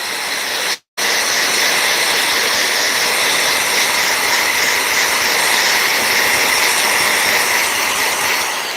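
A blower forcing a steady, loud rushing hiss of air to clear dust out of a home studio, running continuously after a brief cutout near the start.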